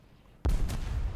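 A bomb bursts in a WWII tank video game: a single sharp, heavy boom hits suddenly after a quiet moment and trails into a loud, rumbling decay.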